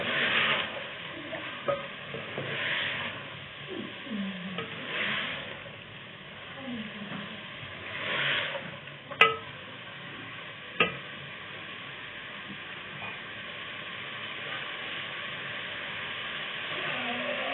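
Half a kilo of long-sliced carrots fry in a pan for gajar matar salan, a soft continuous sizzle with stirring scrapes and a couple of sharp clinks of utensil against the pan.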